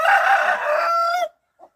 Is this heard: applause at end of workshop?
no